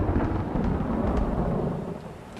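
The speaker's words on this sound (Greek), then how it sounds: "Ακόμη αβάστον βροντί" A heavy rumble of thunder rolls through, deep and loud, then slowly fades over a couple of seconds with no talking.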